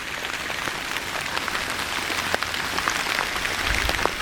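Steady rain falls on garden earthworks and rain catchment basins, a dense, even hiss with scattered sharper drops landing close by, with no voices.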